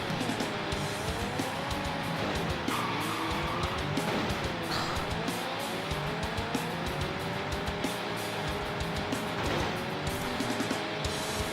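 A racing car's engine drones steadily in a 1996 PS1 racing game, its pitch rising and dipping with gear changes and steering, loud and continuous with faint tire noise and no voices.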